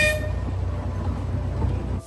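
Steam train whistle at Blackpool Pleasure Beach, a loud sustained toot held for about two seconds over a low rumbling hum, then cutting off abruptly.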